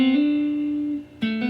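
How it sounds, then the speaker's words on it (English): An electric guitar plays an open-string cascade with hammer-ons: a sustained, ringing note holds, fades slightly, then a fresh plucked note sounds near the end. The tone is clear and close with no voices. "Play that one and hammer on this one."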